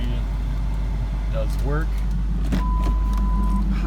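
Power windows on a 2002 Ford Mustang GT, a short electric motor whir running up and stopping, heard close, with a person talking around it and a brief tone after.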